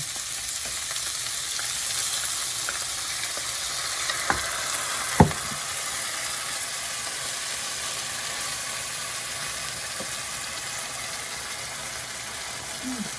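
Shrimp and green beans sizzle steadily in a hot pan with garlic sauce, a dense continuous frying hiss broken by a couple of brief knocks from stirring.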